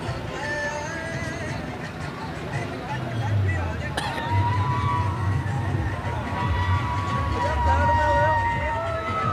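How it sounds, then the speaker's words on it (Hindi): Busy road traffic thick with tractors and vehicles, a dense continuous rumble of engines with horns and a murmur of crowd noise, while people talk nearby. "बहुत ट्रैफिक है।"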